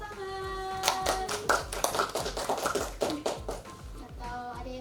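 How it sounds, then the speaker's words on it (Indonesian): A classroom group claps hands in a short burst of scattered, uneven claps lasting a few seconds, with voices and some tonal background sound underneath. "Oke, beri tepuk tangan."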